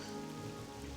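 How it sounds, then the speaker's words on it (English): Steady rain pouring down in the Morrowind game world, falling through an open canton roof; a continuous, even hiss of dense drops with no voices over it. "I like how the rain falls through the top of the canton"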